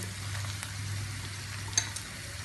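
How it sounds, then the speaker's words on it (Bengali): Tomatoes tipped into a pan of fried onions for a sev tamatar curry give a steady soft sizzle over a low hum, with one brief clink midway and no voices. "পেঁয়াজটা ভাজা হয়ে গেছে, এবার আমি দিয়ে দিলাম টমেটো"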